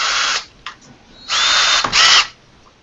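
An electric drill bores into a custom toy piece in short bursts: a brief whir, a quick blip, then two longer loud runs with rising pitch, close up and without talk.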